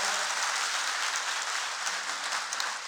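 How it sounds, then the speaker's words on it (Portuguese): A church congregation applauds at a sermon, a dense, even wash of clapping that holds steady and close for the whole stretch with no talking over it. "Agora eu quero uma salva de palmas."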